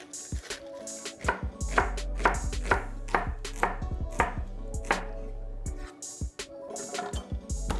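A knife slices through a shallot on a cutting board in a steady run of crisp, close chops, with a brief pause near the end before a few more cuts.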